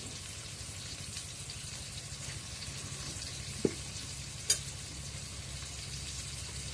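Chili powder goes into a frying pan of spiced curry base, which keeps up a soft, low sizzle while a spoon stirs it, with two brief taps on the pan.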